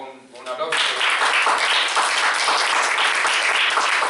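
An audience at a theatre congress talk breaks into loud, sustained applause after a brief lead-in, many hands clapping together in a dense, even roar that holds to the end.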